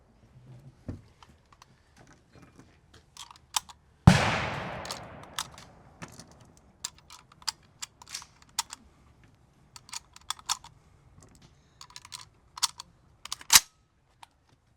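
Hand-loading rounds into a Soviet SKS rifle: scattered sharp metallic clicks and taps at close range, with one loud clack early on, spread irregularly across a quiet background with no talking.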